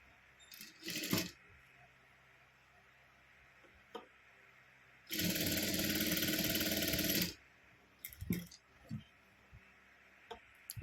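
A sewing machine runs in one loud, steady burst of about two seconds stitching along a folded square of cloth, with fabric handling clicks and rustles before and after.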